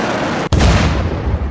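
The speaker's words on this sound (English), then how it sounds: "You put the missiles into the anti-air gun." An anti-air missile gun fires in the Unturned video game, a single sharp, loud blast with a heavy low boom that rumbles and decays over the following second.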